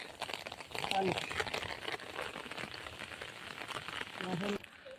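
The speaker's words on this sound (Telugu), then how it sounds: "వర్షం బాగా పడుతుంది." Heavy rain falls steadily across a home vegetable garden, a dense close patter on leaves and surfaces continuing throughout, with a voice speaking over it.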